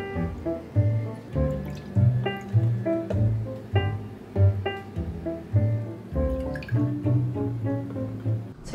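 Milk glugs and splashes as it is poured from a carton into a glass, a rhythmic run of bubbly pulses with a rising, filling tone, close and clear.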